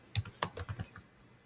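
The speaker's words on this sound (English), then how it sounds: "I'm typing" Keys clatter on a computer keyboard in a short burst of about eight uneven taps, close and fairly quiet, with no voices.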